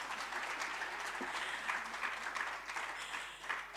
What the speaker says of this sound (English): Please give her another clap.